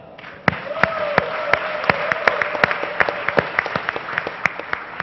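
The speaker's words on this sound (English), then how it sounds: "round of applause for Tello" Audience applause at a startup pitch competition as Tello's founders take the stage, a crowd of hands clapping with sharp individual claps standing out, a faint tone and some talk beneath.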